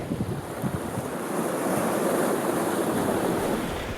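Ocean waves roll onto the rocky coast at Karmøy, Norway, a loud, continuous wash of surf mixed with gusting wind buffeting the microphone, with no voices.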